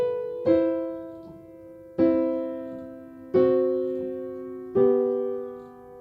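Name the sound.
piano playing a phrase of The Star Spangled Banner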